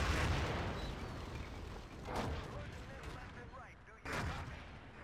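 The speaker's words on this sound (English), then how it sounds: "Artillery going off for Scandi right now." Distant artillery booms and gunfire rumble across a Battlefield 2 Conquest league match between x6tence and Scandi, with broadband bursts near 2 and 4 seconds over a steady battle din while a commentator talks.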